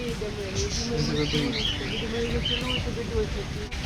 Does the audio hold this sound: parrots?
yes